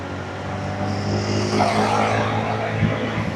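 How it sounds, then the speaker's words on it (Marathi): A motorcycle is ridden fast along a road, its engine a continuous near roar with rushing wind that swells midway. "मजा येते गाडी पळवायला"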